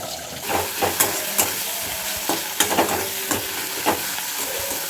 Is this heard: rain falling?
no